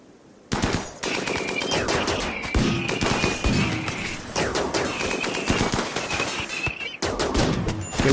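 Sustained rapid gunfire from a Rimworld mechanoid ambush on arid shrubland, dense overlapping bursts of automatic shots rattling almost continuously for several seconds with brief pauses, loud and close.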